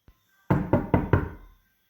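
Four firm, evenly spaced knocks on a door, loud and close in a quiet room, preceded by a tiny tap.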